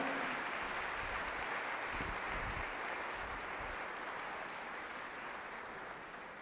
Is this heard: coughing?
no